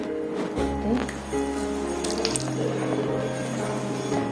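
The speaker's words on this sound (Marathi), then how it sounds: "हे बघा मी आता हे गरम पाणी ह्याच्यामध्ये." Hot water poured into flour in a bowl for kneading dough in a Konkan home kitchen, a steady splashing pour running throughout with low hum underneath and faint clinks.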